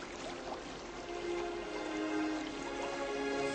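Water splashes and rushes in a steady, continuous wash for a staged baptism of Jesus in a Portuguese Bible audio drama, with no voices over it.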